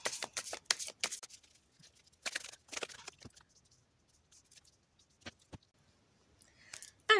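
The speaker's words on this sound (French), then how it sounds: "Alors, on va voir le tirage de la semaine." Tarot cards are shuffled for a weekly three-choice reading, making soft, quiet clusters of riffling clicks and patters in short bursts separated by near silence.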